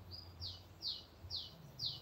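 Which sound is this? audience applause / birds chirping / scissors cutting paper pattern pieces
birds chirping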